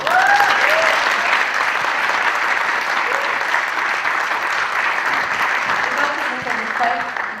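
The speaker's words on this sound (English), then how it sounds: "If you could hold your applause" Loud, steady applause from a large crowd, sustained for several seconds and tapering slightly at the end, with a few faint voices mixed in.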